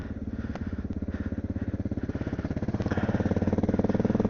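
A Honda XR650L motorcycle engine runs in 2-degree January cold at Lake of the Ozarks, a steady, close, rapid thumping that swells slightly louder toward the end, with no talking.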